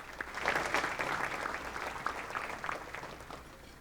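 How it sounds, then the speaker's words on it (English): A luncheon audience at an economic kickoff event gives the sponsors another round of applause, a moderately faint, steady patter of many hands that swells briefly and then tapers. "One more round of applause for all the sponsors that helped make today possible"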